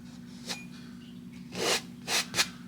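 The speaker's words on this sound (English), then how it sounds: "Scrape away the excess." A palette knife scrapes excess oil paint from a canvas during a landscape painting of a spring mountain, giving a short scrape followed by two longer rasping strokes, close and fairly quiet over a steady low hum.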